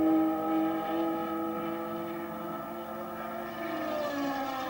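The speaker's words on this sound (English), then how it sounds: "But the Ferrari engine still sounding extremely sweet." A 1968 Ferrari racing engine at a Tasman Championship round at Surfers Paradise, heard as a sustained high-pitched tonal wail that holds steady, then slightly shifts pitch near the end.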